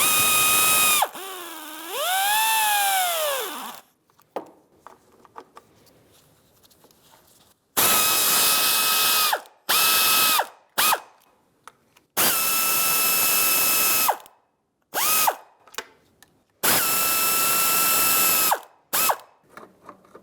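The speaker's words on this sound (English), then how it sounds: "like I said, 1/4 inch ratchet," A 1/4 inch ratchet snugging the oil pan bolts on a 2011-2016 Hyundai Elantra, heard as loud, close bursts of rapid clicking, several long runs separated by short pauses and quick clicks.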